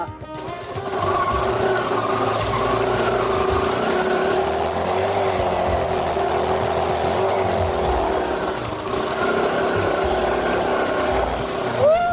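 A boat motor drones steadily at a constant pitch for several seconds, loud and close, while crossing a river, with wind and water noise around it.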